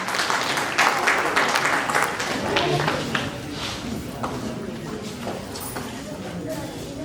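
An audience claps at an award ceremony. The applause is loud at first, then thins into scattered claps under a talking voice.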